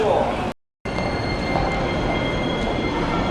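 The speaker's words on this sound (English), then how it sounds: "It's a subway, and we go underneath" A Tokyo subway train rumbles steadily with a thin high whine from the wheels, loud and continuous after a brief dropout near the start.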